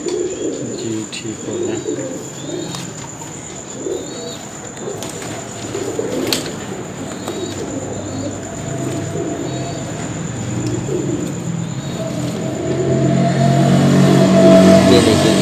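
High-flying Sialkoti breeder pigeons coo in soft repeated rolling calls close by, mixed with light chirps, while someone speaks briefly and a passing vehicle's rumble swells toward the end.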